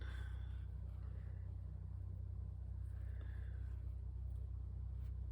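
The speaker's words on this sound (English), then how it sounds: "I hear a tractor. He must be out there baling." A distant tractor working a hayfield during baling gives off a faint, steady low engine drone that never lets up, with soft higher noises drifting in now and then and no voices.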